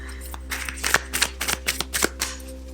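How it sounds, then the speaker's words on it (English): Tarot cards are shuffled in a run of quick riffling bursts with a soft thump between them, close and fairly loud over a steady low hum. "Still can't control the cards."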